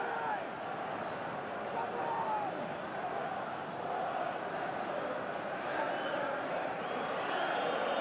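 Large stadium crowd of about 73,500 at a League Cup final soccer match, a steady, faint, dense murmur and roar that holds evenly throughout.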